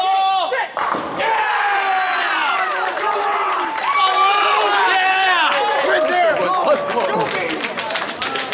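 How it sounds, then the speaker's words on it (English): Youth bowlers at a bowling tournament cheer and shout together in a loud, sustained burst of excited crowd voices, steady across the whole stretch. "We just shot 140 and we're cheering like we just won like a PBA event"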